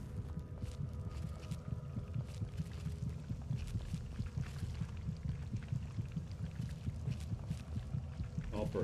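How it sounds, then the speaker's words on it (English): Fast heartbeat of a stationary character in Fallout 3, a low, muffled, steady rapid thumping under a faint hum and ambient drone, continuous and fairly quiet. "his heartbeat seems kind of fast."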